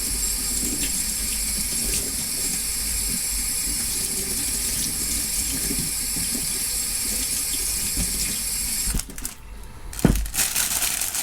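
Running tap water pours steadily over leeks in a kitchen sink, a constant close rush that cuts off near the end with a few clunks and handling sounds.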